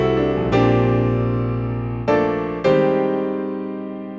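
Casio PX-S3000 digital piano heard through headphones, three struck notes or chords with sustained, slowly decaying resonance, played alone and up close without talk.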